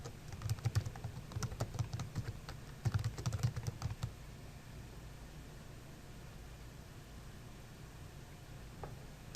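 Quick bursts of typing on a computer keyboard, clustered key clicks in two short runs followed by quiet room hiss, close and fairly soft.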